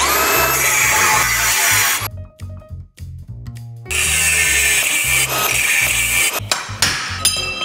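Angle grinder cutting steel box section on a classic Range Rover V8, loud harsh grinding bursts interrupted by a short pause, then cutting resumes with scraping and clanks.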